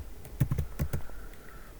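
Keys clatter on a computer keyboard in a short burst of about half a dozen close, soft taps, then stop, with no talk over them.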